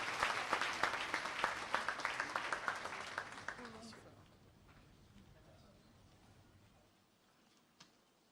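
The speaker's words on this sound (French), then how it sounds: "Merci de l'accueillir sous des applaudissements bien nourris." Audience applause welcoming the wife of the President of Faso at the COPAD 2019 launch ceremony, dense and loud for about four seconds, then fading into a quieter murmur with a lone clap near the end.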